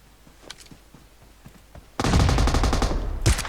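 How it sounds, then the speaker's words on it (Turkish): Loud sustained burst of M249 machine gun fire in the mobile battle royale game PUBG Mobile, following a stretch of faint scattered shots and footsteps, with a second burst near the end. "Bak M249 sıkıyor"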